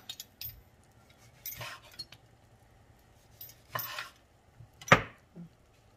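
A knife slices through a tomato on a board, giving a few sparse, soft cuts and taps spaced apart, with one sharper clink near the end in an otherwise quiet kitchen.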